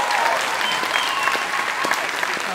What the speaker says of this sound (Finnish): Antakaa isot aplodit Pasille,